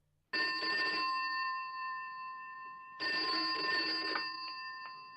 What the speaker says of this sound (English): Captain Bannon answers the call